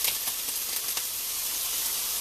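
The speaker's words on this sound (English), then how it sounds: "into my pan, you're going to hear it start to sizzle over there" Bright, hissing sizzle of bacon frying in a pan, steady and close with a few faint pops, no talking.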